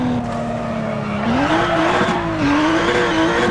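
Rally car engine in WRC 9 droning steadily at high revs as it brakes toward an acute hairpin, pitch dipping and rising with a continuous tire scrub underneath, loud and close throughout.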